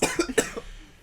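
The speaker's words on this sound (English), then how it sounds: "That was a legit cough" Several sharp, raspy coughs in a quick cluster, close and fairly loud, fading to quiet with no talking.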